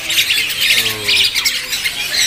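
A Hong Kong myna at a bird market gives loud, harsh squawks and chattering calls in quick bursts, close and continuous, over faint market background.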